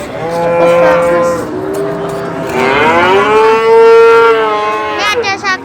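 At the Wirosari livestock market in Indonesia, Simmental cattle give loud, close, sustained moos, one rising and swelling in the middle, over a constant crowd hum.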